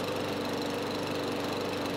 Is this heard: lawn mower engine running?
yes